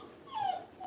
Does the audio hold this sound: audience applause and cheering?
no